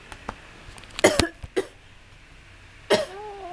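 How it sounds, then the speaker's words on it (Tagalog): A few sharp coughs in quick bursts, close by, separated by short pauses in an otherwise quiet room. "Dali, umuubo ako"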